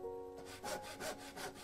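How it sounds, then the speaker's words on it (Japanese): A hand saw cuts hard nodes off split bamboo strips during basket making, heard up close as a quick series of rhythmic rasping strokes that follow a short quiet moment. "硬い節はこのように後からノコギリで切り落とし"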